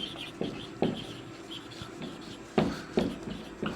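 Chalk or marker taps and strokes on a classroom board as a teacher writes out a physics definition about potential energy, a few short scratchy bursts spaced irregularly, fairly close and moderately quiet.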